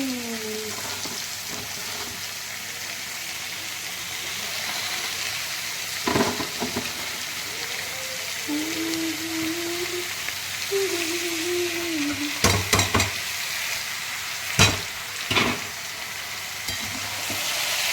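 Cabbage and peas fry in a pan with a steady, moderate sizzle throughout, broken by several sharp scraping stir strokes and clatters toward the end, while a voice talks faintly in the background.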